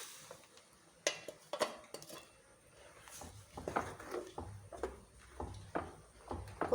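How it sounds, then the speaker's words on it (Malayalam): A mixer jar is rinsed and the water poured into a pot of banana stem curry: soft clinks of the jar against metal, then sloshing, splashing pours in uneven bursts, close and fairly quiet. "നമ്മുടെ മിക്സിയുടെ ജാറും കൂടി കഴുകി ഒഴിക്കുകയാണ്"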